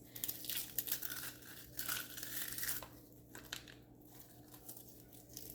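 Cooked bacon being crushed by hand over salads during meal prep: dry, crackly crunching and crinkling in irregular close bursts, louder at first and then lighter, with no talking.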